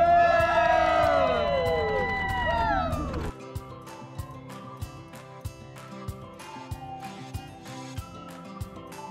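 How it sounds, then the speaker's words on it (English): Wedding guests erupt in loud cheering and whoops for the couple as they stop and kiss, a dense crowd burst lasting about three seconds before cutting off abruptly to quieter scattered clicks. "Everyone's gonna cheer for them."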